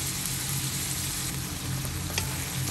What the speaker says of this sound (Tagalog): Pakuluan lang natin siya ng konti